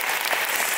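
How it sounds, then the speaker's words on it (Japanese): Sustained audience applause fills a hall at the 2024 Japan men's bodybuilding championship, dense steady clapping with no gaps, a brief burst heard close and loud. "改めまして大きな拍手でお送りください。"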